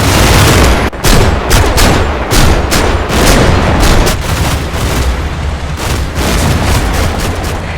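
Loud, dense artillery and gunfire from the World War II tactics game Combat Mission: Final Blitzkrieg, with heavy booms and rapid overlapping shots rolling continuously throughout.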